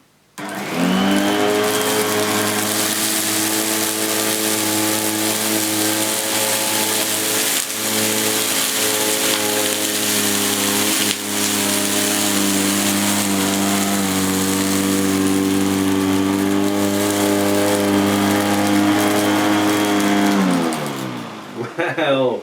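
An Electrolux 560 vacuum cleaner with its manual suction control set to maximum spins up, roars at a steady loud pitch close by for about twenty seconds, then winds down.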